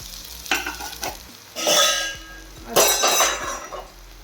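A ground spice mixture for Nagpur-style saoji patwadi curry is tipped into hot oil and sizzles in loud bursts, with stirring and the clink of a utensil against the pan between them.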